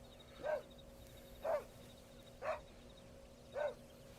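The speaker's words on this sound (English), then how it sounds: "Oh, even the dog is still here." A dog in Red Dead Redemption barks four times at even one-second intervals, each bark distinct and moderately near against a quiet background hum.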